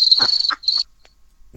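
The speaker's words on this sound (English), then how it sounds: "There's crickets here." Crickets chirp loudly and close by in two shrill trilling bursts, then go quiet before a short rustling noise at the end.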